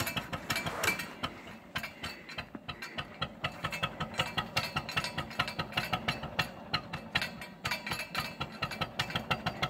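A 1951 Ferguson TE20 tractor engine with carburetor trouble runs unevenly, its loose, irregular chugging and mechanical clatter pulsing throughout with uneven bursts instead of a smooth idle.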